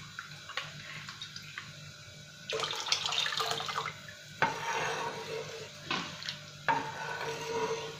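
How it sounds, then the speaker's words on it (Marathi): Water poured into a pot of kat amti, a thin curry being mixed and brought to a boil, comes in three close, soft splashing bursts separated by short quiet gaps. "मी आणखी थोडं पाणी काढून घेतलेलं होतं, तेही मी त्यात घालते आहे"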